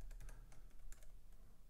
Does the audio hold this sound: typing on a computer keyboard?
yes